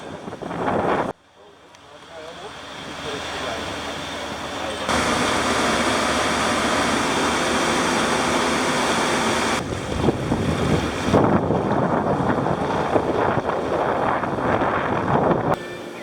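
Wind buffets the microphone over a steady engine drone and rushing water on a boat ride in the Netherlands, continuous and loud for the whole stretch.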